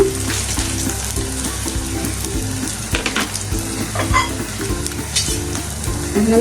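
Banana blossom frying in hot oil until red and crispy, giving a steady, close sizzle with bursts of crackle and a regular bubbling pulse throughout, with no voices.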